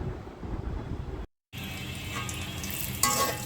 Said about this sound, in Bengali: বেগুনগুলো এভাবে আমি ভেজে নিচ্ছি